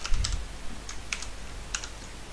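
Computer keyboard typing: a quick run of light, close key clicks in irregular bursts over faint room noise.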